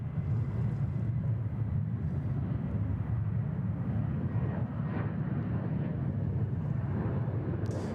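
A Qantas plane takes off on runway 34 Left at Sydney Airport, heard as a continuous low jet roar that holds steady for the whole stretch, with no talk over it.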